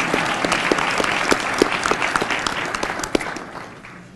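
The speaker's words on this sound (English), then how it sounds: "Round of applause for Charles, please." An audience at a high school football banquet claps in a short round of applause, dense and steady at first, then thinning out toward the end.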